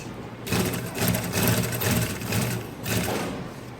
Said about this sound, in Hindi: फिर कपड़े सेटिंग करके सिलाई शुरू करें